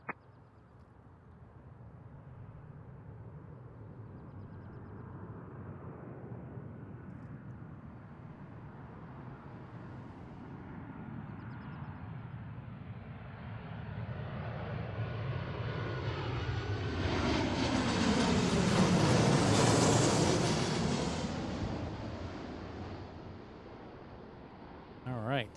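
An airliner arriving from Newark approaches Seattle airport, its jet roar swelling steadily to a loud peak as it passes overhead, then fading away.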